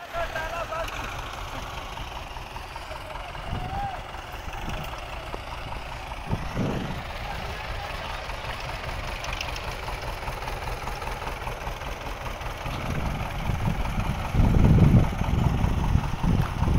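A Belarus 510 tractor engine idles with a steady low rumble while hitched to a loaded trailer, its tone swelling louder toward the end, with occasional knocks and bumps over the running engine.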